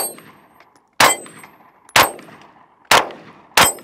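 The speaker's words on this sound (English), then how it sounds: "I'm gonna shoot this upside down to see if I could induce any type of malfunctions" Four sharp shots from a Grand Power Stribog SP9A3S pistol-caliber carbine, fired upside down, crack out at an uneven pace, each loud and close with a brief metallic ring and short echo.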